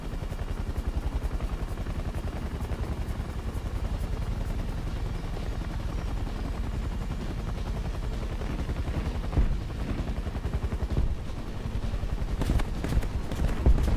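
Rapid, rhythmic gunfire from Metro 2033 rattles on steadily for a long stretch, dense repeated shots with a few sharper cracks near the end.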